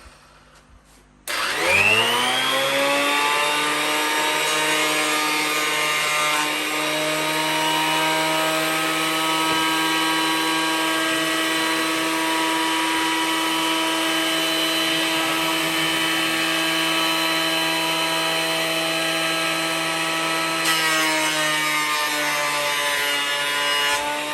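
A Hitachi P100FD electric planer spins up and runs steadily through pine softwood for over twenty seconds, a loud, sustained whining drone with strong tonal harmonics and no talking over it.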